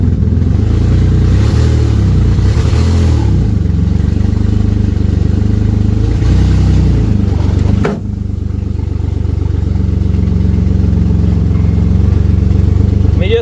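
Ford Mustang with a 3.0 engine that keeps stalling, recently started after sitting for weeks, running loud and close with a rough uneven idle and rising revs as it pulls up, a brief dip midway.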